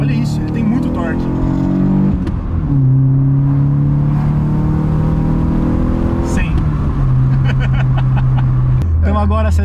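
A street Chevrolet Corsa with a naturally aspirated 1.6 16v engine pulls hard and loud, its revs climbing and dropping across gear changes, with people talking over it.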